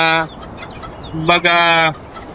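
Two loud, close chicken clucks, each a short harmonic call with a pause between them.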